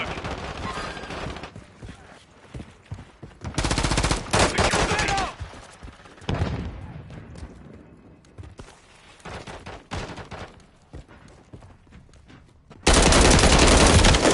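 Automatic and single-shot gunfire in a Call of Duty Modern Warfare 3 team deathmatch, coming in loud dense bursts with quieter gaps between them and a long sustained volley at the end.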